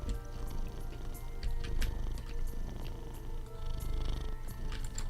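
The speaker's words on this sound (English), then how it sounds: "you can purr into the microphone, that's alright." A cat purrs close to the microphone in a steady, rumbling rhythm, with faint clicks and background noise throughout.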